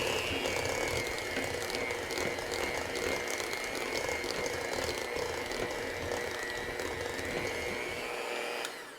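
An electric hand mixer creams whoopie pie batter for red velvet whoopie pies, a steady loud whirring drone with a mechanical rattle that runs nearly unbroken, easing slightly just before the end.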